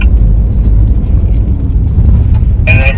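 A camper van crawls off-road in four-wheel drive toward a beach, its low rumbling engine and drivetrain steady and close, with a brief higher whine near the end.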